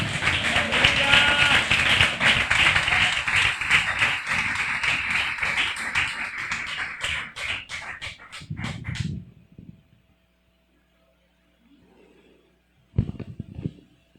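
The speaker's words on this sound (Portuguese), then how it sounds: "Dê uma salva de palmas para Jesus." A church congregation applauds during a worship service. The dense, sustained clapping lasts several seconds, thins into scattered claps and stops, followed by near silence and a brief burst of noise.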